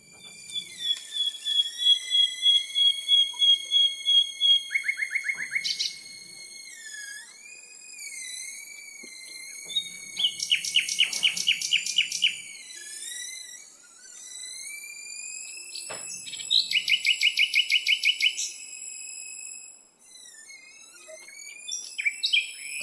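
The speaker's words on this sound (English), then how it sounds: "He's playing an iPad along with these birds." Nightingales in a Berlin park mixed live with electronic sounds played on an iPad, with bright whistled tones, rapid pulsing trills and sliding pitches repeating in loud phrases separated by short pauses.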